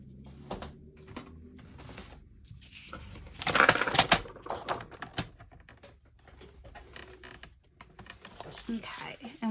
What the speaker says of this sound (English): first we'll start with cutting our Designer Series paper